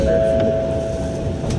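A JR Hokkaido train rolls toward Nemuro station, the easternmost stop in Japan, with a steady close rumble of wheels on rail filling the cabin and a faint sustained tone above it, with no voices.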